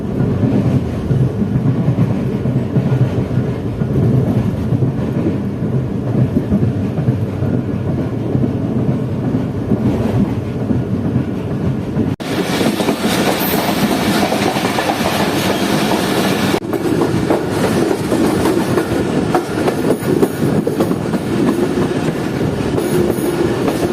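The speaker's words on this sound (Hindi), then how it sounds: "दोस्तों इस वक्त हमारी ट्रेन पहुंच रही है रायवन जंक्शन रेलवे स्टेशन पर।" The Fareed Express passenger train rumbles steadily on its way into Raiwind Junction, with continuous rolling wheel noise and clatter heard from inside the coach and the sound growing louder partway through.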